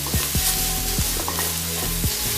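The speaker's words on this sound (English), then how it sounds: "Heat up another 1 tablespoon of cooking oil and add in the garlic." Garlic sizzles loudly in hot cooking oil in a wok, a steady close hiss broken by several scraping stirs of a spatula.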